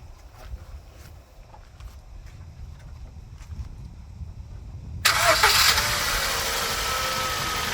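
A Ford Fiesta MK6 with a 1.2 engine cranks and catches, settling into a steady idle after a quiet stretch of faint workshop background. No one speaks.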